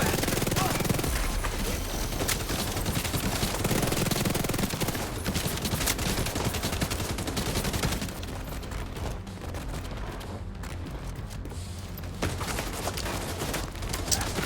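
Dense automatic gunfire rattles without a break as an enemy is shot in The Division 2, loud and close, with a voice talking faintly underneath now and then.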